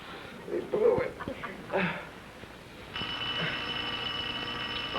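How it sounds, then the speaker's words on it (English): A telephone rings in a 1967 sitcom scene, a steady bright ring that starts partway through and continues to the end, following moments of people talking. "Oh, he's calling back. The phone."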